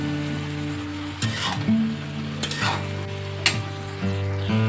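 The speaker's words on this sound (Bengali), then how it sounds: "এবার ভেজে রাখা মাছটা বাঁধাকপির মধ্যে দিয়ে দেবো।" Fried fish pieces, including the head, being stirred into cabbage cooking in a pan, a steady sizzle broken by several sharp metallic scrapes and clinks of a spatula at irregular intervals.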